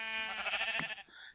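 A single wavering bleat from a sheep in Minecraft, a short, nasal, quavering call lasting about a second, heard up close and alone.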